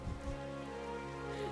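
Steady rain falling in the Final Fantasy XIV game world, a soft continuous patter under sustained musical tones, with a brief low thump near the start.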